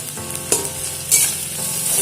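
Grated mankochu (taro) frying with onion and green chilli, a loud close sizzle with two or three sharp stirring scrapes.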